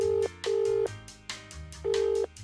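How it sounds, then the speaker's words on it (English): Phone being dialled in the video game Escape From Ever After: a run of steady, clear tone beeps with short gaps between them, loud and close, with no voices over it. "Please wait 1 second while I phone my boss."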